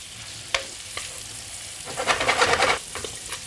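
Kale cooking down in butter in a pan, a soft sizzle broken by a few sharp taps, then a brief burst of louder spattering and stirring near the middle, fairly quiet overall with no talking.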